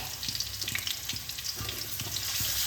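Potatoes fry in a pan for a bottle-gourd greens dish, giving a steady, close sizzle with faint stirring scrapes throughout.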